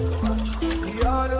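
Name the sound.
water being poured for instant noodles over campfire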